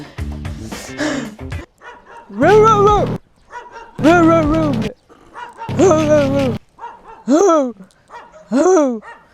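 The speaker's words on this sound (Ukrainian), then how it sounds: "А ззаді собака десь була. Є теж собака." A dog barks and howls in several drawn-out, yowling bursts with pauses between, fairly close, with some quieter sounds in the gaps.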